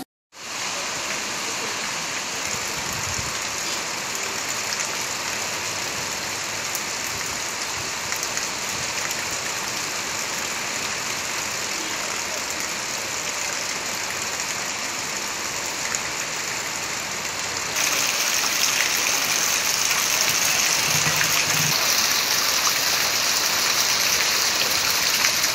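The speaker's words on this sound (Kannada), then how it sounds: "3 ದಿನದಿಂದ ಸುರಿಯುತ್ತಿರುವ ಗಾಳಿ ಮಳೆ" Steady heavy rain pours in the wind-lashed Malnad hills near Chikkamagaluru, an unbroken dense hiss that grows slightly louder and brighter toward the end.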